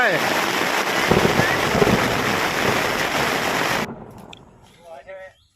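Heavy rain in Nakhon Nayok, Thailand pours in a loud, dense hiss that suddenly cuts off, leaving quieter sounds and a brief voice.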